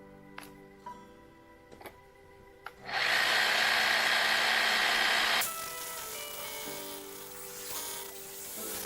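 A power drill bores holes for rebar in a root cellar: a few sharp knocks first, then a loud grinding whine for a couple of seconds, easing into a lower steady run, near and without talk.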